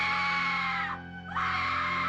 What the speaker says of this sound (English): It's very annoying to watch people screaming.